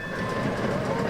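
A Brisbane tram rolling along its rails, a dense steady rumble with a faint high whine, heard close and continuous.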